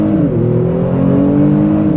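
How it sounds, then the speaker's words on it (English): A 2021 Kia Stinger GT launches hard with traction and stability control off, its engine roaring loud and steady with rising harmonic tones as the car pulls away, no talk over it. "All right, so let's try launch control here."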